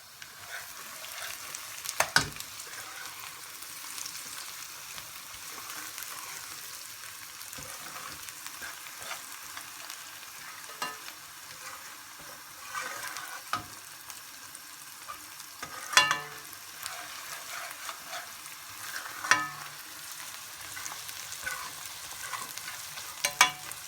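Onion, butter, ginger and chilies with cumin frying together for a vegetable curry: a steady moderate sizzle runs throughout, punctuated every few seconds by louder scraping and tapping stirs against the pan.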